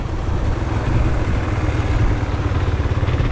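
A KTM EXC enduro motorcycle rides along, its engine a loud, steady, close drone with rough low-end pulsing and wind noise throughout.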